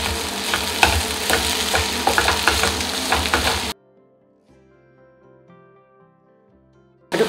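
Shredded cooked chicken frying in masala in a pan, loud crackling sizzle with repeated stirring scrapes for a few seconds, then cut to quiet soft background music.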